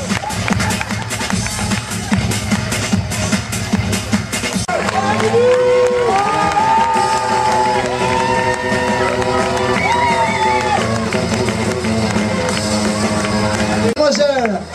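At the Miss Valras-Plage 2011 beauty pageant, the crowd cheers and applauds the three newly elected Misses and the other candidates, loud festive noise mixed with music playing over it throughout.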